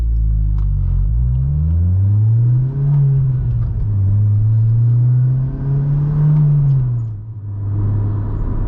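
A 2006 Acura RSX Type S engine pulls hard into VTEC, its close, loud drone climbing and dipping steadily through the revs as the car accelerates, with no talk over it.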